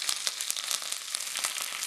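Curry leaves hitting hot oil in a pan for a Kerala dried prawn curry, a dense sizzle broken by quick repeated spits and crackles, close and continuous.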